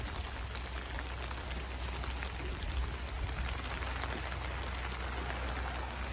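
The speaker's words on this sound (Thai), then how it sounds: "ฝนเริ่มมาครับ" Steady rain falls in a dense, continuous patter beside a fast-flowing river, an even hiss of drops on surfaces with no voices.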